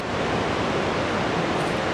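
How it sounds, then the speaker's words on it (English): Blue rapid river water rushes through Kurobe Gorge in Japan, a continuous broad roar of flowing water with no breaks, heard from a hiking trail above. "You see the river down there, beautiful blue rapid water."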